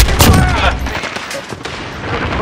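Gunfire rattles in a burst within the Modern Warfare first-person shooter game after a fire-support call, loud and close with sharp repeated reports that quickly thin into a noisy rumble.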